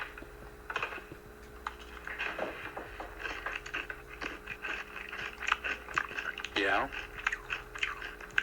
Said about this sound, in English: Are you aware that we can hear you chewing?